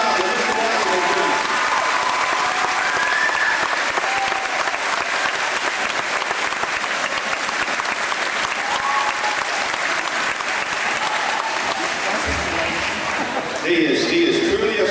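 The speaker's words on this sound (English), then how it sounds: "I want everybody to give him a round of applause" A banquet crowd gives sustained applause at a fall sports gathering, a dense, loud, continuous wash of clapping lasting well over ten seconds before it fades and a voice starts speaking near the end.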